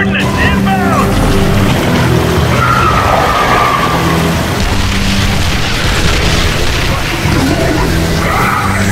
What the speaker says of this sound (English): Get me artillery! Ordnance inbound!